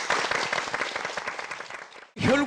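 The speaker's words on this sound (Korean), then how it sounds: "박수를 다시 한번 해드립니다." Studio audience clapping on a Korean TV health talk show, a full burst of applause lasting about two seconds that cuts off abruptly as a voice starts speaking.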